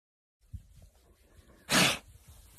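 A single loud, close sneeze bursts out after a few soft breaths and sniffs, standing alone in an otherwise quiet indoor moment.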